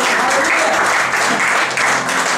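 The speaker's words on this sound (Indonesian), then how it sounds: "Berikan tepuk tangan yang meriah buat Tuhan." A church congregation gives loud, enthusiastic applause during a worship service, a dense, continuous roar of many hands clapping close by with no break.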